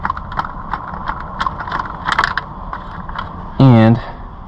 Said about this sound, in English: now that I got it, we're going to undo the nut all the way